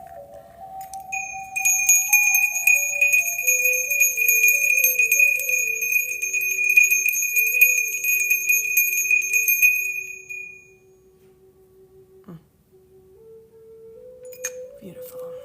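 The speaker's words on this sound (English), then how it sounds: "We need a little bell." Small handbell rung during a live healing session, bright sustained ringing tones lasting several seconds and fading, with a voice speaking softly underneath and a quieter stretch afterward.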